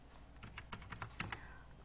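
Typing on a computer keyboard while entering a registration year into an employment website, a quiet run of close, quick key clicks in an uneven rhythm.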